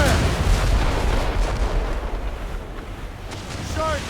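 Broadside cannon fire from a sailing ship in Assassin's Creed Rogue: a sustained, dense roar of booming shots and rumble, with shouted crew voices and a brief whistle near the end.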